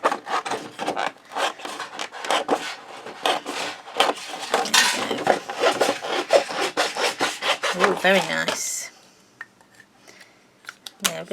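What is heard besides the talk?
new scissors cutting paper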